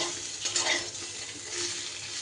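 Mango pieces are stirred in a hot pan for a sweet-sour jaggery pickle, a steady sizzle with scraping strokes of the spoon, close and alone.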